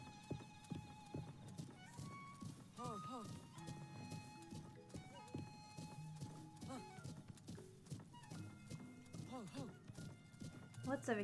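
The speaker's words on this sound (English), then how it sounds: "Horsey." Horse hooves clip-clop and a horse neighs in the Zelda Breath of the Wild video game, with a player chatting over the rhythmic hoofbeats.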